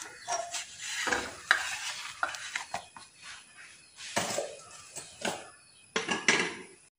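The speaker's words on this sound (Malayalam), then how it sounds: "ഇനി ബാക്കിയുള്ള മാവെല്ലാം നമുക്ക് ഇതേപോലെ ചുട്ടെടുക്കാം." Green gram (moong dal) dosa cooks in a pan with a soft sizzle, broken by repeated close scraping and clinking of a spatula against the pan in uneven bursts, with no talking.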